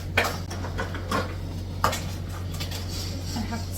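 A spoon works wet and powdered ingredients together into dough in a bowl, with scattered clinks and scrapes against the bowl at an irregular pace, close by and fairly quiet.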